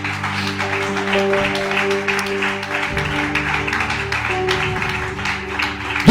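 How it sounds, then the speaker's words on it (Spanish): Church congregation applause during worship, a continuous wash of clapping blended with held organ or keyboard chords and faint voices. "Vamos a darle ese aplauso a Jesucristo."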